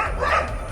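A single dog gives one short, moderately loud bark over a steady low background rumble, heard in a news report about packs of street dogs biting people.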